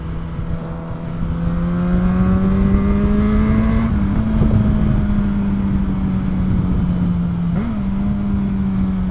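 A motorbike engine revving in first gear, holding a loud, steady drone close by that climbs slightly in pitch and dips briefly twice as the throttle shifts.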